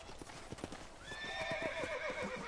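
Horse hooves clip-clop in a steady, quick rhythm in the video game Red Dead Redemption, joined partway through by a loud horse whinny over the moving hoofbeats.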